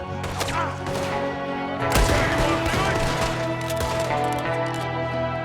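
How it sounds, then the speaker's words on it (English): Dense gunfire in Red Dead Redemption 2 during a shootout in the game's opening episode, rapid overlapping shots and cracks over a steady background score with no voices. "There's another one shooting from the window."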